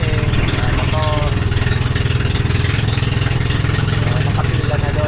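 Vehicle engines rumble and idle as cars, pickups, trucks and motorcycles board a ferry at a port, a loud steady low drone with faint chirps and clatter mixed in.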